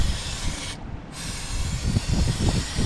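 Brake cleaner hisses from a spray can onto the 6.0 LS engine of a 2011 Chevy 2500 HD during an oil change, a steady broadband spray that breaks briefly before continuing amid clanking shop noise.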